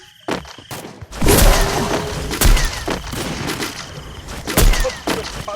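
Sniper rifle gunfire in a video game rings out in several sharp, loud reports with echoing tails, spaced irregularly through a busy game soundscape.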